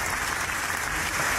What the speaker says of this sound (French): Applaudi.